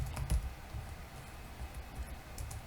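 Soft, quick typing on a computer keyboard while writing an SQL query, a faint close patter of keystrokes with no voice present.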